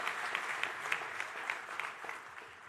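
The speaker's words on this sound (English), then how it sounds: "We can applaud Julius Berman" At a Yeshiva University rabbinic ordination ceremony, the audience gives a short round of applause, many hands clapping together in a soft, even patter that fades slightly toward the end.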